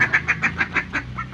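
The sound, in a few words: ducks quacking while coming to eat feed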